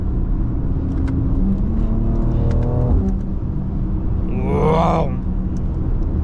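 A BMW X3 M engine droning steadily as the SUV crawls through Bay Area rush-hour traffic, a low continuous rumble with a brief rise in revs, heard from inside the cabin with a short exclamation.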